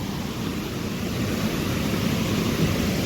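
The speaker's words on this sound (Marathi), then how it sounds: "हे बघा धरणावरून पाणी चाललं आहे" Water from heavy monsoon rain pours steadily over a full dam on a river in Ratnagiri, Konkan, a continuous broadband roar that holds even and loud throughout.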